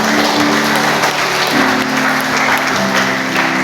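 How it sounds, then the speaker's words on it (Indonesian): A church congregation applauds during a worship service, loud sustained clapping filling the space evenly, with a low hum of instruments beneath. "Berikan tepuk tangan kepada kita"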